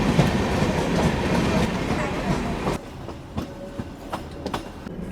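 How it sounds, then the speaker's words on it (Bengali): The Nizamuddin Goa Express passes close by, starting as a loud rumbling roar with wheel clatter, then dropping abruptly to quieter, sparse rhythmic clicks of wheels over rail joints. "পাশ থেকে বেরিয়ে যাচ্ছে নিজামুদ্দিন গোয়া এক্সপ্রেস মানে ভাস্কো টাকামা থেকে ছাড়ে এখন এটা বেরিয়ে যাচ্ছে"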